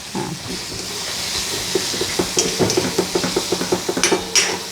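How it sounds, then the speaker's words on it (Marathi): Pithla mixture being sautéed in a pan for a Maharashtrian recipe, with a steady hiss of steam and a run of quick spoon scrapes and taps against the pan, close and clear, no talking. "तर हे छान परतून घेणार आहे आपण"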